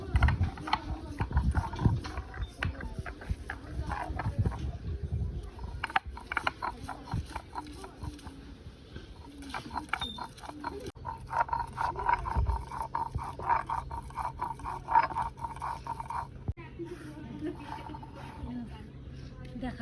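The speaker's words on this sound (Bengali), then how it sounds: "এবার আদাটাকে বেটে নিব" Fresh ginger being ground into paste by hand for a prawn dish: steady rhythmic scraping and grinding strokes repeat throughout, with a voice now and then.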